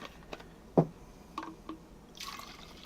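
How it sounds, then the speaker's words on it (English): Water pours from a HydraPak Stash collapsible bottle into another container, heard as a few faint, scattered drips and small splashes, then a soft trickle near the end, with no talking. "let me just pour it in here."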